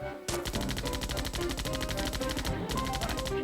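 Rapid automatic gunfire rattles nonstop while shooting zombies in the video game Zombie Panic in Wonderland, dense and loud bursts with a brief pause before the shots start and another dip midway.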